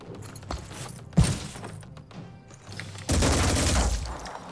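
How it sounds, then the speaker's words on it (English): Shotgun fire in the sci-fi tactics video game Phoenix Point: a sharp blast and scattered impacts, then a sustained, louder barrage of heavy shots and clattering that runs for over a second. "return fire from the heavy with a shotgun"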